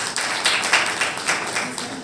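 Audience applause at a business seminar in Mainpuri, a steady wash of clapping hands filling the room at moderate loudness for a couple of seconds.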